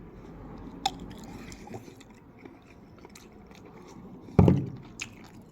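A hot link sausage bitten and chewed up close, a faint click and then one loud, juicy crunching bite followed by softer squishy chewing, with no talking.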